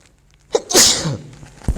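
A single sneeze during a lecture class session: a quick sharp intake, then a loud breathy burst that tails off into quiet room tone, with a small thump at the end.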